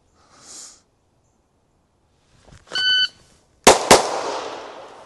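A Glock 34 pistol fires two sharp, loud gunshots in quick succession at close range, each crack followed by a ringing outdoor decay, after a short electronic beep.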